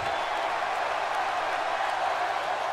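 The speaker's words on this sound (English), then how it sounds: "by the sound of this crowd, I think they're getting what they wanted" Crowd cheering in the WWE 2K16 wrestling video game, a steady, wash-like roar of an arena audience holding at a constant level throughout with no clear peaks, and no voices standing out.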